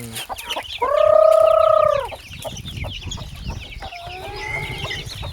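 A Rhode Island hen gives a long, loud squawking call close by, then softer clucks follow, with other birds chirping faintly in the background.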